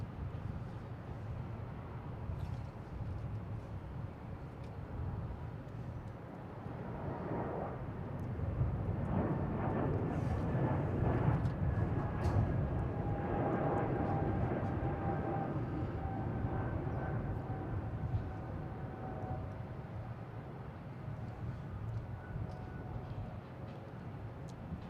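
A JetBlue Airbus A220 jet taxiing at Boston Logan International Airport bound for Fort Myers, a distant steady engine rumble and whine that swells slightly in the middle and holds over continuous background noise.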